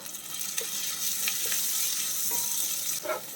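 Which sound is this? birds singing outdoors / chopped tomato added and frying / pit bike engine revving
chopped tomato added and frying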